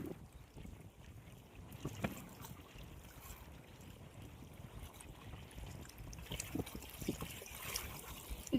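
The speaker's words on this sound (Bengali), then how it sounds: "ঢেউ হচ্ছে" Small waves lap against a fishing boat on the Dutta river in the Sundarbans, a faint, soft, irregular slosh and trickle under light wind with no talk.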